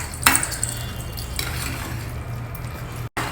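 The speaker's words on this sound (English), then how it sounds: "Just mash this also with the back of a spoon like this." A spoon's back pressing and mashing pressure-cooked rice in a pot, soft squishing scrapes with a sharp clink at the start and a brief later scrape, steady over a low hum, no talking.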